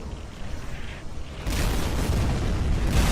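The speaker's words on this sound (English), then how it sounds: "Yeah, the explosion." A game explosion from Rise of the Reds, a rumbling blast that builds into a loud, sustained roar lasting a couple of seconds, with no speech over it.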